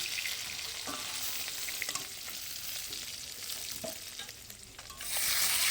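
Fish fries crisp in hot oil in a pan with a steady, dense sizzle and a few faint stirring clicks. The sizzle swells louder near the end, and no one talks.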